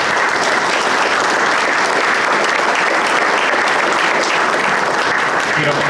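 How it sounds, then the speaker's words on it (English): Sustained, loud applause from an audience fills the room at the close of an agribusiness State of Agriculture event, steady and dense throughout with no break. "round of applause for."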